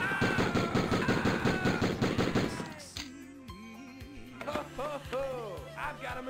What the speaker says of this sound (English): I've got a machine gun